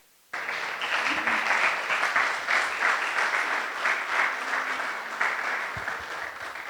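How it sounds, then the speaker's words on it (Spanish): A church congregation breaks into sustained applause that starts abruptly and holds steady and loud for several seconds, with faint voices mixed into the clapping. "¿Le das un aplauso al Señor?"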